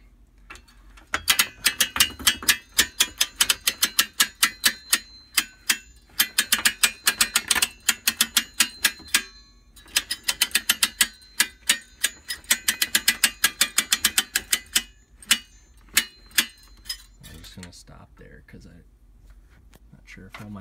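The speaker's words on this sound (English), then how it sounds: "Alright, so start cranking on it." A hand crank on a DIY manual sit-stand desk is turned in bursts, giving rapid ratcheting clicks in rhythmic runs separated by short pauses, close and fairly clear.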